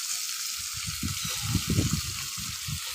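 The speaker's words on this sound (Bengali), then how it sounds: "ভালো করে ভেজে নেব" Frying in a pan with turmeric and salt gives a steady high sizzle, with soft bubbling and stirring pulses underneath.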